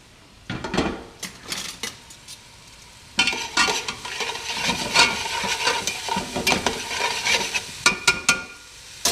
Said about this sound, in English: I'm going to go ahead and add my ginger and my garlic to this.